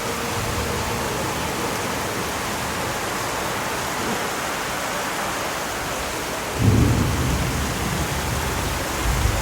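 Heavy rain pours at night, a loud, steady hiss throughout, and a deep roll of thunder swells in about two-thirds of the way through.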